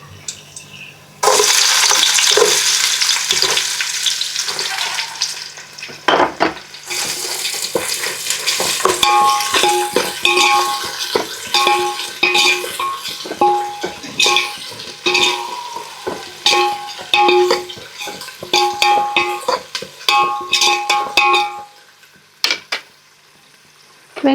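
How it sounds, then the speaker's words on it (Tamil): Onions with cinnamon, cloves and other whole spices sizzle steadily in hot oil for chicken biryani, with repeated scraping stir strokes of a spoon against the pan, close and continuous, no one speaking. "வெங்காயம் நல்லா பொன்னிறமாக வர வரைக்கும் நம்ம வதக்கிக்கலாம்."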